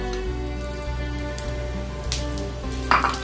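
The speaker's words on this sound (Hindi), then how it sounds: "इस वक्त मैं डाल दूंगा ये सूखी मिर्च और जो जीरा लिया था मैंने वो जीरा भी डाल दूंगा" Dried red chillies and cumin seeds dropped into hot sunflower oil in a kadhai give a steady, close sizzle with a continuous frying hiss, and a brief clink of a utensil near the end.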